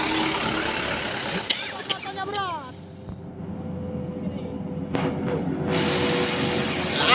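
Euro 4 dump truck engine straining while towing a stuck L300, a steady heavy diesel roar with surges and brief hissing bursts, loud and close under background voices.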